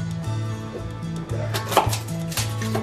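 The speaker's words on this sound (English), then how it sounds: "Crush some garlic." Garlic cloves are crushed on a kitchen surface, giving a few sharp, close thumps and crunches within about three seconds over a steady low hum.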